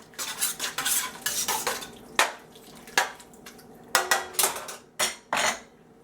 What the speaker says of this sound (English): I'm going to add 1 can of plain diced tomatoes. I'll give that a stir here.